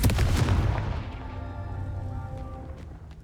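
A Confringo blasting spell cast in the Hogwarts Legacy video game, landing as one loud booming blast that rings out and slowly decays over a few seconds, with no voices.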